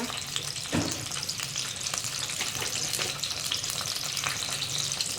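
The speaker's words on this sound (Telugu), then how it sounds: "ఇంకొద్దిగా ఆయిల్ వేసుకున్నాము అందులో ఆవాలు వేసుకోండి ఫస్ట్" Mustard seeds fry in oil in a pan with a dense, even sizzle. Scattered crackles and pops run throughout at a steady, close level.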